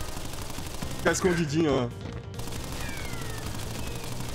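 Boss machine-gun fire in the Crash Bandicoot video game, heard as a short rapid burst of shots under a player's voice, then a steady background game soundtrack.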